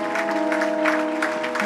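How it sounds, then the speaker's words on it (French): Crowd applause at a church event, steady dense clapping over a sustained tonal hum, fairly loud and continuous throughout. "Je voudrais qu'on acclame très fort."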